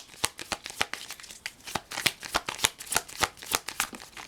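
Tarot cards shuffled by hand nearby, a rapid series of crisp riffling slaps and flicks in an uneven rhythm.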